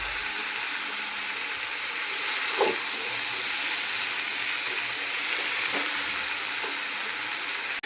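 Spice paste (masala) frying in oil in a pan for a poppy-seed tilapia curry, a steady close hiss and sizzle throughout, with a couple of faint clinks from stirring.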